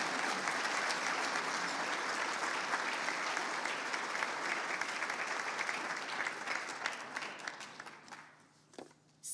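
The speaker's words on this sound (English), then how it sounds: "Let's give our great alumni a round of applause." A gala audience applauds alumni honorees with a dense, sustained clapping that stays strong for about seven seconds, then thins and trails off into scattered claps before falling nearly silent.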